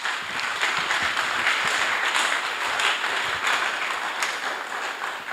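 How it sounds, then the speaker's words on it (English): Sustained audience applause fills a hall after a speech at a public event, dense and steady clapping from many hands throughout with no voices on top. "Another round of applause for him,"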